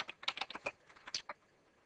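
Rapid bursts of keystrokes on a computer keyboard while entering a neighbor command to configure a BGP router, crisp and close, with a short pause before a final few taps.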